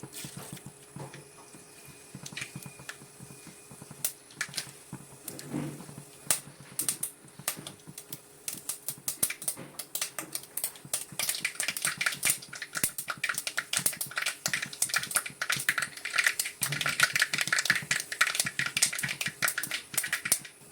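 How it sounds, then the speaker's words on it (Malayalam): Mustard seeds crackle and pop in hot oil in a home kitchen pan, a dense run of sharp little pops growing busier and louder over time, with no talking. "എണ്ണ നല്ലപോലെ ചൂടായിട്ടുണ്ട്. കടുക് ഇട്ട് കൊടുക്കാം."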